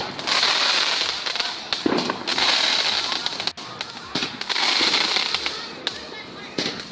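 Fireworks and firecrackers go off outside at night in dense, continuous crackling volleys with sharp pops and a few brief lulls, and voices are faintly audible underneath.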